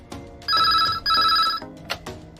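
A telephone rings twice in close, loud electronic bursts with a short gap between them, followed by quieter handling noise, as a man calls about a job vacancy.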